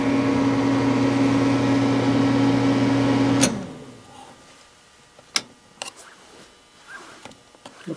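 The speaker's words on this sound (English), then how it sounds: "Looks like the microwave works." A microwave oven in a GMC motorhome running on shore power hums steadily, then shuts off with a sharp beep, followed by quiet clicks and handling noises.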